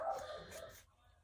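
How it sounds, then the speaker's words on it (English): A dog gives a quick burst of barks in a home, fairly faint and over within about a second, with a voice faintly present around it. "Sorry for the dog."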